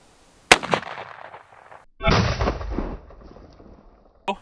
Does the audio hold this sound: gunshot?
yes